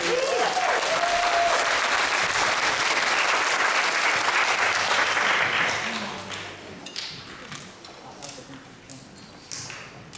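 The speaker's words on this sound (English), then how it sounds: "Big hand, round of applause for our bronze" Concert audience at the Eastern Stars Mother's Day concert gives a loud, full round of applause for a bronze winner, thinning out and fading to scattered claps toward the end.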